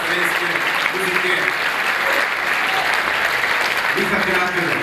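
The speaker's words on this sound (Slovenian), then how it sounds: "Še en čudovit aplavz." Steady, sustained applause from an audience at a municipal holiday celebration in Ljutomer fills the whole stretch, with a voice speaking faintly over it now and then.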